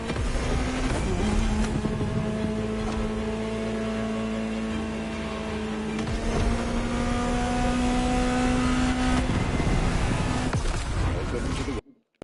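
A Ferrari supercar's engine drones loud and close with a steady tonal note, swelling slightly as it revs, under a dense rumble before ending abruptly.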